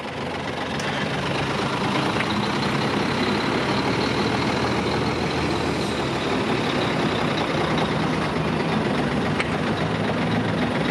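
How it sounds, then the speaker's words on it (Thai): An Isuzu Giga truck's 6UZ1 diesel engine idles steadily, a dense continuous rumble with broad mechanical hiss, close and even in level throughout, with no talking. "อันนี้เป็นเครื่อง e s u 6 z 1นะครับ"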